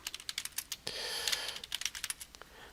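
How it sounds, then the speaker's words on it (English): Typing on a computer keyboard while entering a name into a spreadsheet, a quick run of crisp, close keystrokes with a brief denser burst of clatter in the middle. "we're going to type in"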